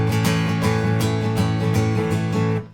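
Electric guitar strumming a full bar of a song with open, sustained chords and no muted dead notes, a steady repeated strum pattern ringing continuously, close and even in volume.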